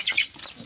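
Kadaknath hens on a farm give a short burst of clucking, close and fairly loud at first, then quieter scattered fowl sounds, with no talking.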